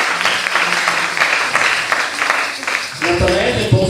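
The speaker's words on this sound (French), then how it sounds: "Applaudissez ensuite la lecture." Church congregation clapping after a scripture reading, a dense wash of applause that stops abruptly as a voice begins speaking over the end.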